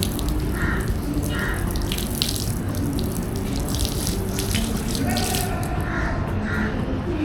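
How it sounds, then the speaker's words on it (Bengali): A water tap runs steadily into a basin at a temple washing area where hands and feet are rinsed, a continuous close splashing gush with a voice speaking briefly over it. "হাত ধুয়ে নাও হাত পা ধুয়ে নিয়ে"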